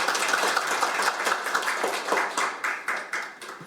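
An audience claps at a seminar on delayed post-war PTSD, giving close, dense applause that slowly thins into separate claps toward the end.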